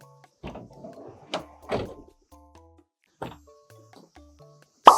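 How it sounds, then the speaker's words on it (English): The rear suicide door of a Honda N-Van opens out with a series of thunks, clicks and latch knocks, ending in a sharp close-up bang, heard at close range with a voice briefly in the background. "suicide doors. Similar to a Rolls Royce, this completely opens out, which is really cool."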